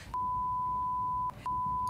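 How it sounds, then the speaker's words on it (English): A steady censor beep tone runs almost continuously, broken by two short gaps, then resumes, loud and close over a faint murmur. "How many beep in this?"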